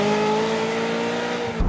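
A Ferrari 355 Spider's naturally aspirated V8 holds a steady, high, harmonic engine note close by, then drops away abruptly at the end.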